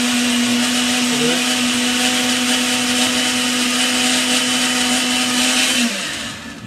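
A blender whirs at full speed while blending an herbal immunity tonic, a loud, steady motor drone that holds for several seconds and then winds down at the end.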